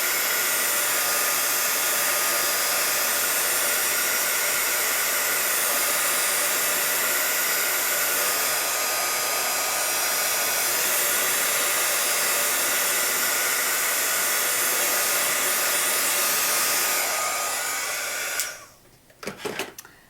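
A heat tool blows hot air steadily to dry stamp ink, a loud continuous whoosh that holds for most of the stretch and then cuts off near the end.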